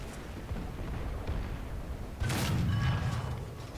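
A German Tiger 1 heavy tank fires its cannon in the War Thunder video game, a single booming shot about midway through, heard over a steady rumbling background.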